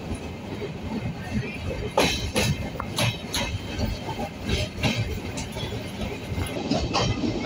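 A Haedo–Temperley passenger train runs on rails near Buenos Aires, giving a steady close rumble broken by a few sharp wheel clacks over rail joints.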